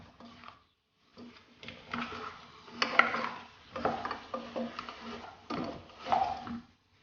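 Salt being stirred into a mixture in a pot while making Edikang Ikong soup. The stirring comes as close, intermittent scraping and clicking strokes with short pauses between them, and no voices can be heard.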